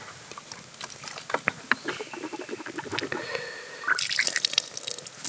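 Water drips and patters into a sink while a toothbrush is rinsed, with irregular close splashes that grow into a brighter, steadier trickle near the end.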